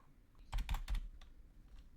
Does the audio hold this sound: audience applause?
no